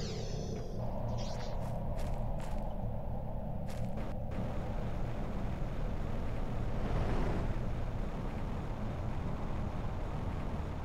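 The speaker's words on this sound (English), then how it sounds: "Storm's still going on" A storm in the game Terraform Mars: a steady, roaring wind-like wash that never lets up, with a few brief higher whooshes and clicks at the start.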